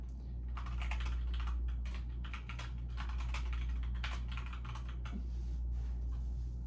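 Steady, rapid typing on a computer keyboard, dense clicking keystrokes close by over a constant low background hum, with no talking.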